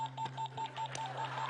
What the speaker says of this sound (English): Buzzer starting. See, you hear that?